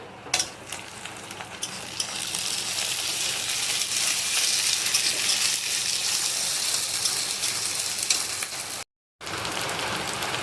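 Ginger-garlic paste fries with browned onion in a pan for a rustic chicken curry, a loud continuous sizzle with stirring scrapes, briefly cutting out near the end before resuming.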